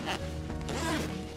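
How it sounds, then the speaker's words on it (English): Zipper on an Eagle Creek Cargo Hauler rolling duffel with two-way lockable zippers and large pulls, a short close rasping pull lasting about a second. "It has two-way lockable zippers and large zipper pulls for easy opening."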